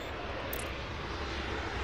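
A jet airliner takes off in the Airport Madness video game, its engines roaring as a steady, loud, broadband wash that holds without a break.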